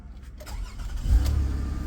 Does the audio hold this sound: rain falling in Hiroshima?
no